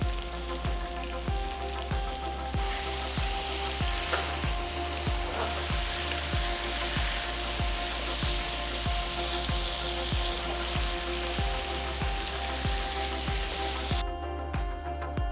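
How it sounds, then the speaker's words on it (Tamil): Three chopped tomatoes sizzle steadily in a hot pan while making chicken dum biryani, a constant crackling fry with faint regular ticks underneath and no talking. "அடுத்து 3 தக்காளி நறுக்குனது போடுங்க."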